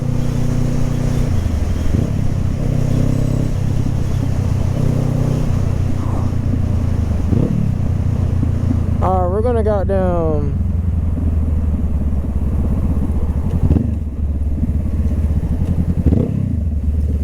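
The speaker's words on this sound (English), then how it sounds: "I just hope this person doesn't try to get over, because I'm right here on the bike" A Honda CB500F motorcycle riding on a road among other traffic, its engine droning steadily and loudly close by, with wind rush and a brief revving pitch sweep midway, while the rider talks over it.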